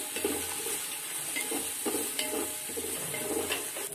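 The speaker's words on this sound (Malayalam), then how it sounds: "ഒരു പിടി പുതിന ഇല ഒരു പിടി മല്ലിയില അതും കൂടെ ആഡ് ചെയ്ത് കൊടുക്കാം എന്നിട്ട് നന്നായി വഴറ്റിയെടുക്കുക" Handfuls of mint and coriander leaves sauté in a pan for chicken erachi chore, giving a steady sizzle with soft stirring scrapes every second or so, close and alone with no talk.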